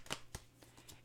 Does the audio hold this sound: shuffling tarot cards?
yes